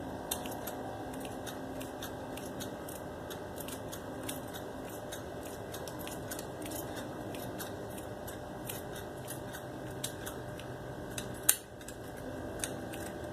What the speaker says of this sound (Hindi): अब इसको मैं यहाँ से काट के अलग कर लेती हूँ।